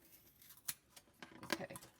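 Scissors cut craft material for a miniature paper house, making a few faint, crisp snips close by in a quiet room.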